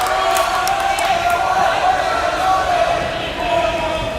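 Crowd of spectators, many of them football players, cheering steadily and loudly from the stands at a high school varsity girls' volleyball match between Skidmore-Tynan and Refugio, with a continuous roar and scattered yells.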